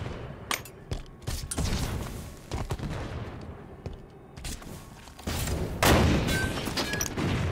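Gameplay of Halo 5 multiplayer with a rocket launcher in hand: a string of sharp firing blasts and heavy booms, some in quick bursts, followed by a loud sustained explosion roar.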